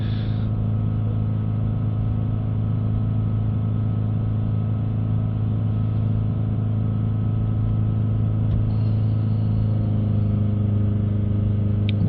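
A Mitsubishi Outlander engine idling steadily up close, a constant low rumble and hum that holds for several seconds as the revs creep slightly higher.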